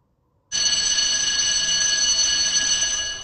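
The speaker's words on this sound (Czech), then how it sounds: "To je můj mobil." A mobile phone suddenly starts ringing after a moment of silence. A bright, steady electronic ring tone plays up close and fairly loud for several seconds, alone, with no talking.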